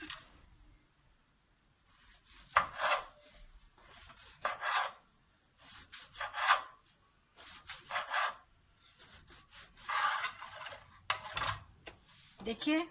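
A knife slicing round, medium-sized eggplants into round slices on a board, heard as a series of soft, separate scraping cuts with quiet pauses between them, fairly faint.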